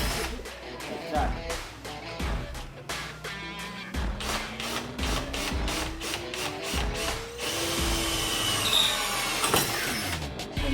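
An INCO 20V cordless impact drill runs in bursts, its motor whine rising in pitch as it spins up, with rapid hammering clatter and a person talking over it.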